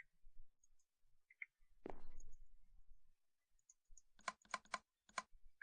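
Rapid clusters of sharp computer mouse clicks during Minecraft play, coming in quick bursts near the end after a brief soft thump, close and fairly crisp with no talking.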